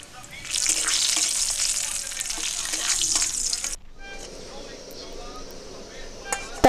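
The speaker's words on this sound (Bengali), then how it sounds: "নেড়ে নিচ্ছি।" Spiced egg tarka frying in a pan, with a loud, dense sizzle and stirring scrapes that cut off abruptly midway, leaving a quieter hiss.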